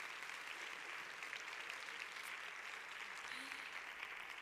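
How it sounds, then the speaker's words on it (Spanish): Steady applause from an audience welcoming a guest, a retired nurse, onto a panel; even, continuous clapping throughout at moderate distance with no break. "Un aplauso para ella, por favor."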